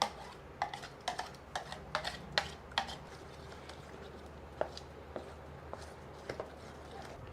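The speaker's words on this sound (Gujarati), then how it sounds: "હવે આ દહીંવાળું ને આપણે આ બધું મિક્સ કરી લઈશું" Ground lentil batter stirred together with curd in a bowl for Surti vatidal khaman, giving close, irregular clinks and soft scrapes of a utensil against the vessel, with no talking.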